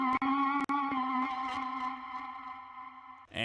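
Roland SH-101 synth sample played an octave down: a sustained, buzzy tone with rich harmonics, briefly interrupted by two short gaps, fading gently before a bright burst at the end.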